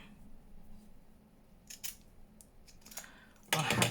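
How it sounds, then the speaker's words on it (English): Scissors snipping a tiny piece of burlap, a few brief crisp cuts scattered through a quiet room, ending in a louder rustle of fabric. "So she'll just cut a little tiny piece of this burlap up"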